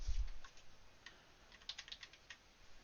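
Typing a currency pair on a computer keyboard, a short sequence of soft, quick key taps, faint and close with a low thump at the start, no speech.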